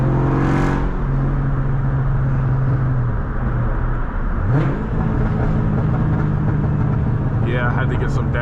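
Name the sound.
500hp Cobra car engine revving and downshifting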